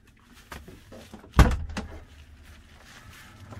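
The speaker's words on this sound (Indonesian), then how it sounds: "pintu belakangnya udah terbuka ya" The rear sliding door of a new medium bus opens with a sharp thunk and rattle, preceded and followed by quieter clicks and handling noises nearby.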